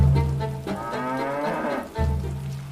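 A cow lets out a long, loud mooing call up close, the low drawn-out bellow swelling and fading, followed by the start of another moo, with a faint patter like rain in the background.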